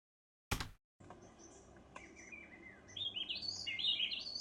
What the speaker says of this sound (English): We've got the bird song,